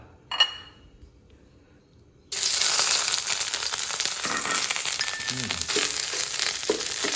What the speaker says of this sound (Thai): ก็ใส่น้ำมันลงไปนิด แล้วก็ผมจะเอาพริกแกงนะฮะ ลงไปผัด